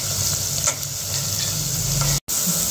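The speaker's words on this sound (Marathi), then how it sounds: "त्याला थोडं मधून हलवायचं, म्हणजे कांदा चांगला फ्राय होतो।" Onions fry with a pinch of sugar in a pan and are stirred through the middle, giving a steady close sizzle with light scraping and a brief cut to silence near the end.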